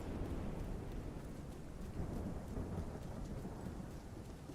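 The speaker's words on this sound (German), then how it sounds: "Jetzt regent's auch noch." Steady rain with rolling thunder in the video game The Division 2, a dense continuous wash of falling drops and low rumbles, moderately loud and without voices.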